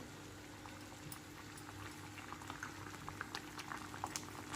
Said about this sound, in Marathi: मस्त उकळी आली